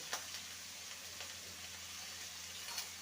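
Eggplant frying in a kadai with salt and turmeric, a soft, continuous sizzle with a few faint clicks of a spatula, quiet and steady throughout.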